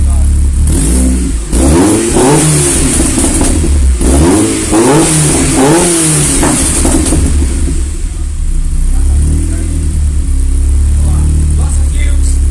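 A 1972 Mini fitted with a Honda VTEC engine, stationary and not rolling, revs repeatedly in loud, close bursts that rise and fall before settling to an idle, with people talking over it.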